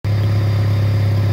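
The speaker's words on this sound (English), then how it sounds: "As you can tell, it's idling pretty dang high" An old, rusty Ford Mustang engine with a leaking, rusted brake line idles high, a steady, loud, continuous drone heard alone and close.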